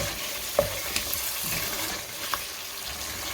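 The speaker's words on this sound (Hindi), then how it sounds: "इनको अच्छे से मिक्स कर लेंगे" Chicken karahi with white pepper and garam masala being stirred in a pan, soft scraping and sizzling with a few sharp clinks of the spoon against the pan, close and moderately quiet, no voices.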